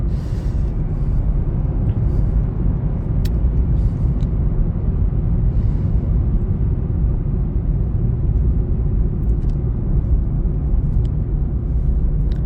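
Steady low rumble and road noise heard from inside a Mazda MX-5 with the windows up while passing roadworks, constant and droning with a few faint knocks and clicks.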